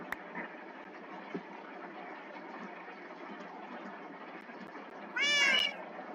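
A single short cat meow rises near the end over a steady low background hum, fairly close and clear.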